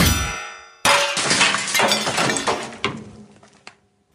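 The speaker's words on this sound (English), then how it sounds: "You sliced that bell clean in two." A samurai sword strikes a metal bell and slices it clean in two, giving one sharp loud clang that rings and crashes for a few seconds, followed by two smaller clinks as pieces settle, with no voices.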